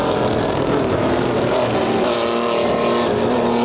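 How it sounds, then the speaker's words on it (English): Race cars, including a Porsche and Mustang and Camaro muscle cars, roar past on a circuit at CARCO Raceway, a continuous loud blend of engines revving and passing nearby. "Trying to fit the Porsche between the two muscle cars."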